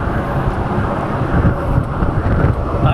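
Strong wind buffets the camera microphone outdoors in a windy provincial spot, a loud continuous low rumbling roar with gusty swells and no speech.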